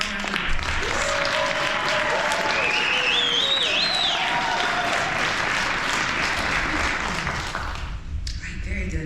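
Steady, full audience applause at a Martin Luther King Jr. celebration event, dense and continuous with crowd noise and a few cheers or whoops over the clapping, fading slightly near the end.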